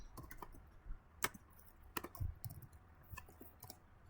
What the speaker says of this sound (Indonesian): Misalkan kodenya kita ketikkan